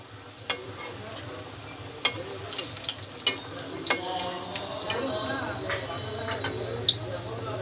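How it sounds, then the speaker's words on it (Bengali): Egg chops fry in hot oil, a busy crackling sizzle with scattered pops and clicks throughout, close and moderately loud. "তেলটি আমার গরম হয়ে গেছে আর ডিম চপগুলো আমি সব দিয়ে দিলাম। হালকা বাদামি কালার করে আমি ভেজে নিব।"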